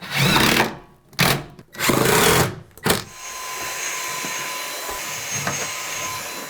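A drill drives screws into a custom wood countertop in three loud, close bursts of whirring with short pauses between them, then the sound drops to a low steady hum.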